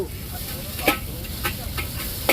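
Pad see ew being stir-fried in a huge wok: a steady low sizzle under the scraping of a metal spatula, with sharp clanks of metal on metal at intervals, fairly near.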